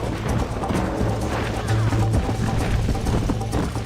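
Horse galloping in the Red Dead Redemption video game during a race, steady rhythmic hoofbeats over a dense, loud mix of game sound and music throughout.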